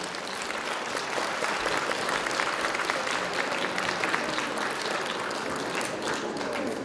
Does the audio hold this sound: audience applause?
yes